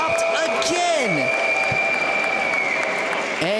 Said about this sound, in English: you can hear the whistling crowd cheering on Mitchell Garrett